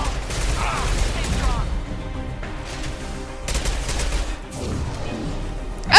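High-impact weapon shots in the video game Mass Effect 2: a few sharp, heavy bursts of gunfire amid mechanical game noise, with a person talking over the action.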